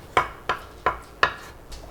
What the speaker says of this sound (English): So we got our ginger, just gonna give this a peel